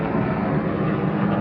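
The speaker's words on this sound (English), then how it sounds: "Excuse the helicopter." Steady, loud droning roar of a helicopter passing overhead, constant throughout with a dense low rumble and no voices.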